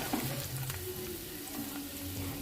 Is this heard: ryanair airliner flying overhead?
no